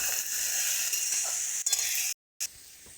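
Bottle gourd peel sizzles steadily as it fries in a pan and is stirred, with a brief drop to silence partway through.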